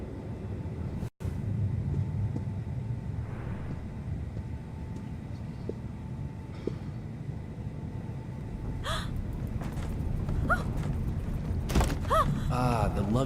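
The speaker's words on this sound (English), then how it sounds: "Ah, the luggage is hitting it. That's what's making the window squeak." Creaks and mechanical squeaks from a window as luggage knocks against it in the video game D4, rising and scraping over a low ambient rumble, with a gasp-like voice sound partway through.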